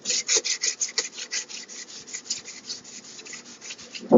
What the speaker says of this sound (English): we're gonna go ahead and get this sanded up